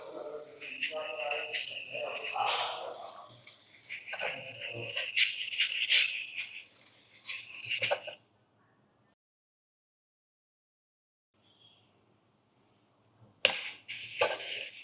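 A knife-sharpening stone being ground flat produces a loud, continuous gritty scraping for several seconds, then falls silent before a short, harsh burst of grinding resumes.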